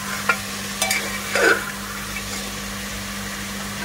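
Sliced garlic going into a hot pan for mutton rogan josh, a few brief clinks and a short sizzling stir over a steady hum, close by with no talk.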